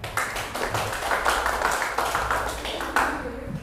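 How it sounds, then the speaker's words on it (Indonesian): A classroom of students claps for a presenting student group, a lively scattered patter of many hands at moderate volume that carries on steadily for several seconds. "Tepuk tangan untuk kelompok 6."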